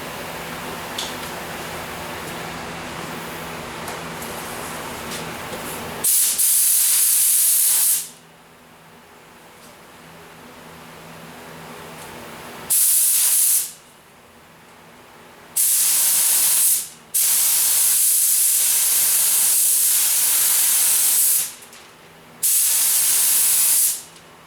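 Second coat of primer sprayed onto a Ford Flex bumper cover, a loud close airy hiss in repeated bursts of a few seconds each, separated by quieter gaps of low background noise.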